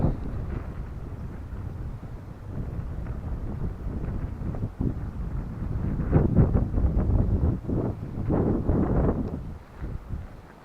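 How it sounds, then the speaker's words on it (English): Gusty wind buffets the microphone in a continuous low roar outdoors near a lake in March, swelling louder in strong rushes toward the end. "It's also very windy."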